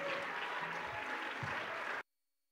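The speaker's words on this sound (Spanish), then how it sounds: "Den ese aplauso al Señor Jesucristo." A congregation at an evening church service in Houston, Texas, gives a steady round of applause to the Lord Jesus Christ, many hands clapping evenly for about two seconds before it cuts off abruptly to silence.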